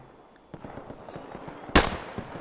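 Pistol gunfire in the Roblox war game Guerre de l'Est, a string of soft distant pops followed by one loud close shot and a few more scattered reports.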